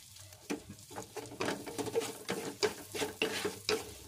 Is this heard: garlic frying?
yes